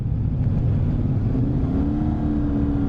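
A 2023 CFMoto 450SS motorcycle engine running loud and close, a dense steady drone that rises slightly in pitch toward the end as the throttle opens, with no speech over it.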